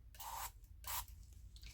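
A spray bottle of alcohol spritzed into a covered cup while dissolving powder for Christmas resin work, two short hissing bursts separated by a pause, soft and close.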